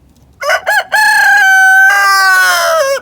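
A farmyard rooster near the chicken coop gives one loud, close cock-a-doodle-doo: a few short rising notes, then a long sustained crow that falls away at the end.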